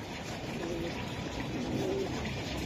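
Female pigeons at a pigeon sale, soft low cooing heard faintly a couple of times against a steady background hiss.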